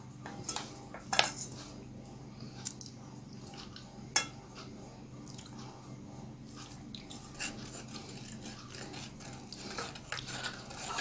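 Milk being stirred together with condensed milk in a bowl for homemade ice cream, heard as faint, intermittent clinks of a utensil against the bowl over a quiet kitchen background.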